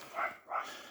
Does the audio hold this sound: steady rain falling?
no